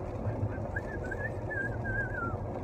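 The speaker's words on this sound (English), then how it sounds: "not a great whistle because I can't pucker really well" A person whistles a thin, wavering tune through a numb mouth that can't pucker well, a faint breathy line of short notes over steady low room noise.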